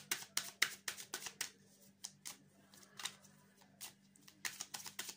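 Oracle cards are shuffled and drawn by hand in a quiet room: a quick series of soft, close papery riffles and slaps in irregular bursts, faint and with no talking.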